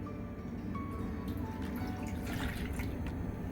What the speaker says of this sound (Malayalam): 2 സ്പൂൺ വെള്ളവും കൂടെ ഒഴിച്ചു കൊടുക്കുന്നുണ്ട്.